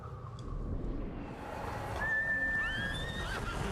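A horse neighs and whinnies in the video game Ghost of Tsushima, a clear, fairly close call with a rising and falling pitch over a low outdoor background.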